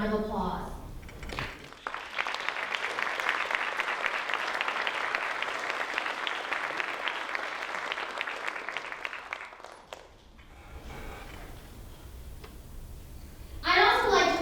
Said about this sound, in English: the college can honor you with a round of applause